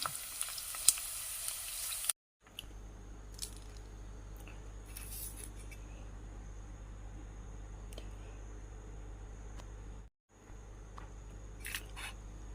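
Pork rinds deep-frying and puffing in hot oil, a faint steady sizzle and low hum with scattered small pops and crackles, quiet and close, broken by two brief dropouts.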